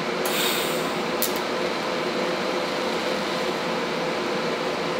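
Gas-shielded welding on a steel angle jig with the gas flow turned up gives a continuous close hiss and crackle, with a couple of sharp bright bursts near the start.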